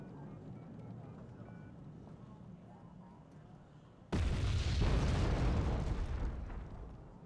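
A heavy howitzer shell impact in the combat game Wargame: Red Dragon, a sudden loud booming blast that cuts in midway over quieter battlefield ambience and rolls on for a few seconds.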